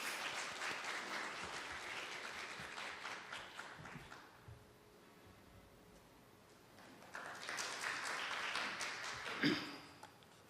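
A forum audience in a hall applauds as a speaker is welcomed to the stage. The clapping is moderately loud at first, dips to a softer lull midway, then swells again before fading.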